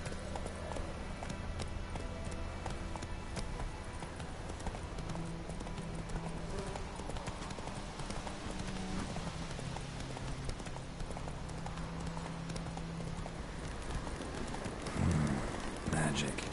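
Horse hooves clip-clop steadily in The Witcher 3, a continuous rhythmic trot or gallop under a rain-like wash of ambience, with a brief louder rustle near the end.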